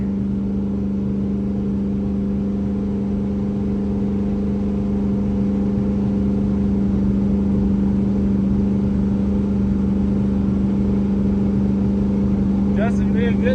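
A twin-turbo Coyote-engined old street car cruises with the windows up, giving a steady, loud, droning engine hum that continues without a break, with a brief faint sound near the end.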